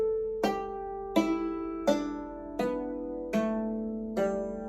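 Six struck metallic string notes step upward one at a time at an even pace, each ringing out bright and shimmering before the next strike.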